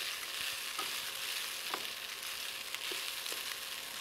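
Farro and browning shallots sizzle in a hot pan during a cauliflower and farro pilaf cook, a steady bright frying hiss with a few soft stirring clicks, close and alone with no talking.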